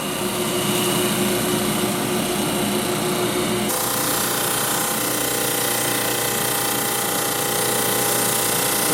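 A belt and drum sanding machine with 180-grit paper on the drum, used for making scale lumber, runs slowly as a steady mechanical whir and rattle. The tone shifts partway through as the second drive starts.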